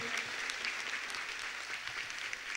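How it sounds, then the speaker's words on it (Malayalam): Dense, even applause from a college audience after a student performance at a campus festival, a continuous wash of many hands clapping at steady loudness throughout, with no voices on top. "നമുക്കൊന്നും കൂടി കൈയടിച്ച് ഇവരെ ഒന്ന് പ്രോത്സാഹിപ്പിക്കാം."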